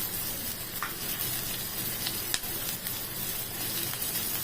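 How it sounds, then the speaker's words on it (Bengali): Onions frying in leftover fish oil in a wok, a steady close sizzle with faint crackles and a few soft scrapes, no voices. "এবার এই কড়াইয়ের তেল যে মাছের তেলটা আছে তার মধ্যেই পেঁয়াজগুলো দিয়ে দেবো"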